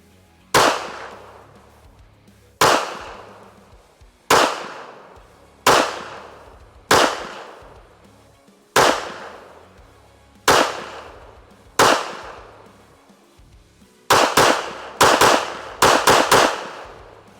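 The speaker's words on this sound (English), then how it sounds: "Today we're shooting, this is going to be federal, small game, jacketed hollow point. This is a 50 grain ammunition, 22 WMR" A Walther WMP .22 Magnum pistol fires 50 grain jacketed hollow points: about nine sharp, loud single shots spaced a second or two apart, then a quick string of five faster shots at the end.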